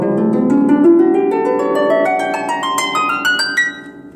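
A Salvi Gaia lever harp rings out in a rising run of plucked notes, each string sustaining and overlapping as the line climbs, close and loud with no talking.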